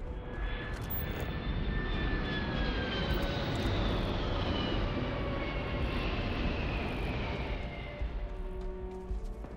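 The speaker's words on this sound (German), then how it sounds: "Wahrscheinlich wieder ein Raumschiff hier am Abheben." A spaceship lifting off in the game Starfield, a loud continuous jet-like engine roar with whining tones that slowly fall in pitch, sustained for several seconds with no voices.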